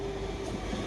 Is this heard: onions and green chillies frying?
no